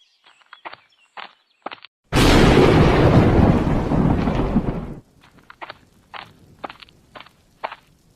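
A single long, loud rumbling thunderclap rolls through a cartoon evening rainstorm and fades after a few seconds. Sparse footsteps and small knocks are heard before and after it.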